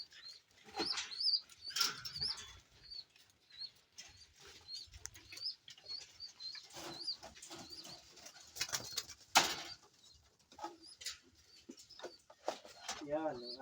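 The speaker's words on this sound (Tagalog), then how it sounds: "Yan ang ating mga ibon." Pigeons coo and chirp amid occasional wing flaps and shuffling, with a person talking intermittently nearby.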